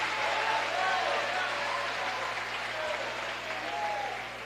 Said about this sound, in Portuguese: Aplauda o Senhor esta noite.